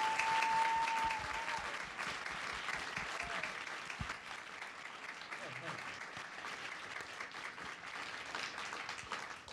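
An audience at a NASA event applauds to welcome back spacesuit engineers, sustained clapping that begins loud and gradually eases while staying steady throughout.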